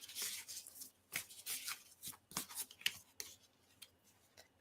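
Tarot cards being shuffled by hand at a table, a series of crisp riffling bursts and soft rubbing slides in an irregular rhythm, close and fairly quiet, with no speech.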